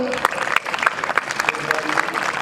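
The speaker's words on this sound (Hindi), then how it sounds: "एक बार ताली बजा कर तो देखो" An audience at a Republic Day school programme claps in a lively burst, distinct hand claps within steady applause, with a few voices mixed in.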